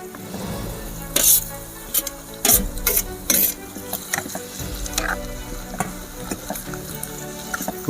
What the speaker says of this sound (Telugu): అందుకే ఈ నూనెలోనే ఈ మష్రూమ్స్ కూడా ఏగాలి అప్పుడే టేస్ట్ అయితే బాగుంటుంది